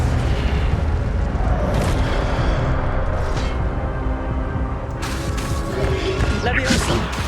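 Fire spells cast in Hogwarts Legacy burst out one after another, each a loud whooshing boom, with sharp bursts near the start and toward the end over a dense, continuous wash of game noise and effects.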